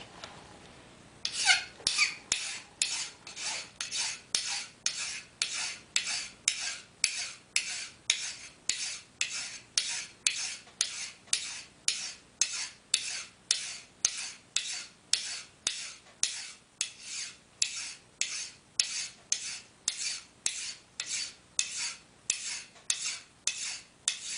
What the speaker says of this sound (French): je vais venir limer la partie que j'ai pas faite ici